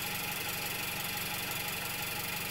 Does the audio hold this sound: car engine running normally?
yes